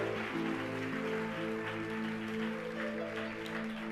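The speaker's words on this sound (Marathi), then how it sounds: "तर जोरात टाळ्या वाजवून आपण स्वागत करूया देवाच्या अभिषिक्त आणि महान दास बिशप पीटरजी आणि पास्टर जयश्रीजी यांचं." A church congregation claps to welcome a bishop, a steady broad wash of applause running the full length over sustained organ-like musical tones.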